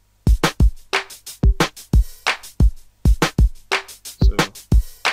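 Pre-made drum samples played back in FL Studio, a string of punchy, separate hits with deep kicks and bright snare or clap cracks in an uneven pattern, loud and clean with no talking.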